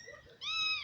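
A cat yowls loudly outside: a short low cry, then a long rising, drawn-out wail with no talking.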